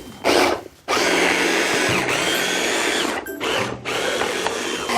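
A kitchen blender grinds ingredients for a Korean seasoning sauce, loud and close, a brief burst then a pause before a steady, sustained whirring grind with small dips in pitch.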